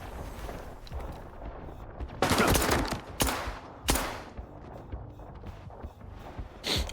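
A 1911 pistol fires in S.T.A.L.K.E.R. 2: three sharp, loud shots spaced about a second apart, then another at the end, with faint gear and footstep noise in between.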